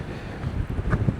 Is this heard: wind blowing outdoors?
yes